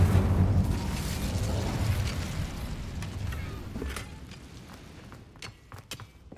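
An Incendio fire spell cast in the video game Hogwarts Legacy: a loud, rumbling burst of flame that roars at the start and tapers off over several seconds, with small crackles and pops trailing behind it.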